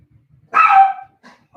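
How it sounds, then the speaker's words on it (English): A dog barks at nearby fireworks, giving one loud, close bark followed by a fainter short yip, with quiet background and no talking. "Oh, I know why he's barking. There's somebody shooting off fireworks."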